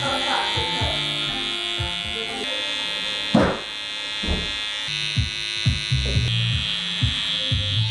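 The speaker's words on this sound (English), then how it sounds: "just work up into that neckline with my mini trimmers" Mini electric hair trimmers buzz steadily while trimming a neckline, a close, sustained high whine with brief pauses and clicks, someone talking over it.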